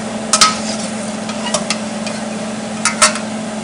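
Minced garlic hitting a hot pan and sizzling while being stirred, a steady hiss under scattered clinks and scrapes of a utensil, close and fairly loud, with no talk.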